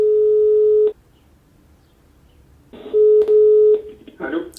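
Telephone call tones for a radio phone-in: a steady beep cuts off, and after a pause shorter beeps sound again, followed by a brief burst of line noise as the call connects, loud and close.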